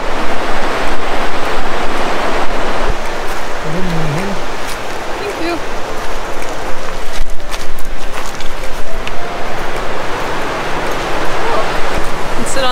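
Tamihi Creek flows steadily near a campground, a continuous broadband rush of moving water filling the whole scene at close range, with occasional faint voices in the background.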